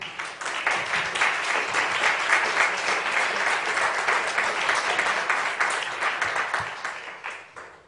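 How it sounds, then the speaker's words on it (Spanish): Conference audience applauds steadily after a talk on artificial intelligence, a dense, sustained wash of clapping hands that swells and then tapers off near the end, alone without talk. "demos un fuerte aplauso a nuestra conferenciante"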